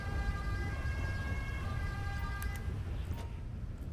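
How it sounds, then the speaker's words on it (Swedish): Wailing siren of a police car in GTA, played at night, rising and falling in a steady electronic tone over low engine rumble, then cutting off near the end. "Man måste bara stänga av sirenerna när vi ändå..."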